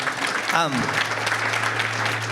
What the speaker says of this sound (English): I want to give a round of applause to our panel.